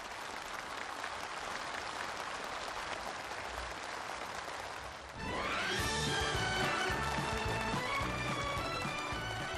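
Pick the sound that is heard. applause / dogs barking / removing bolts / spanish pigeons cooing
applause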